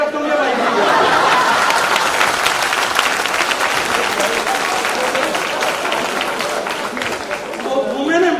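At a press conference, an audience breaks into loud, sustained applause mixed with laughter and crowd chatter, filling the room for several seconds before easing off slightly.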